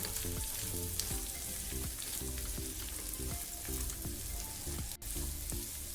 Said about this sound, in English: We have to roast these dry fruits till we get a nice aroma